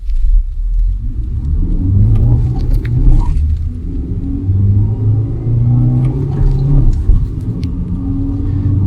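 A Kia Sonet HTK+ car accelerates hard from standstill to 60, its engine rumbling low and steady inside the cabin, rising gradually in pitch with road noise underneath and no talking.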